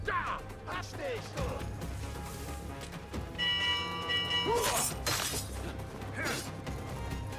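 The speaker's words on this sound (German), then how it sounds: "Ich läute die Glocke." A large bell rings out in Assassin's Creed Mirage gameplay, clanging repeatedly with crashing impacts and long metallic resonance that swells loudly mid-clip, layered over busy game ambience.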